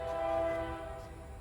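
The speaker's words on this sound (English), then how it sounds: "Sorry for the train in the background." A train horn sounds in the background, a long steady tonal blast that holds for about half the moment and then fades under a low rumble of rail traffic, fairly distant and alone without talk.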